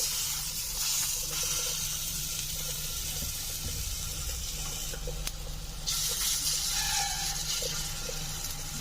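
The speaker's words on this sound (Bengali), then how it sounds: "আমি আজকে বড়ার আকারে ভেজে নেব" Raw banana kofta fritters frying in hot oil give a steady, dense hiss that stays at an even level throughout, close and unbroken, with no talking.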